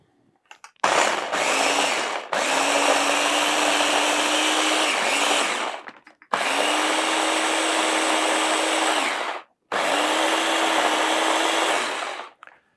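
A blender whirs loudly in three long bursts, blending thin pandan leaves with water, each run starting abruptly and stopping with short pauses between; the motor pitch holds steady under a dense roar, with no talk.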